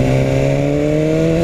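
BMW S1000 R sport motorcycle under way, a steady loud engine drone with rising tonal harmonics as it pulls, close and continuous with no talking.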